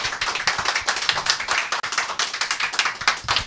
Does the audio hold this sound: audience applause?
yes